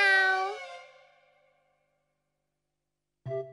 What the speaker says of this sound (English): I'm a cat.